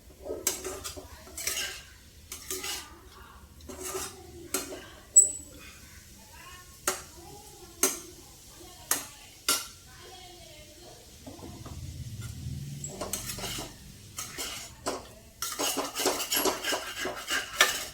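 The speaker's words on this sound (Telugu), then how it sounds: "కారం చక్కగా వేగాలి, మాడకుండా" A Telugu potato fry with chili powder is stirred in a pan, and a metal spoon scrapes and clinks against it in a steady rhythm over a faint sizzle. Someone talks between the strokes, and the stirring quickens near the end.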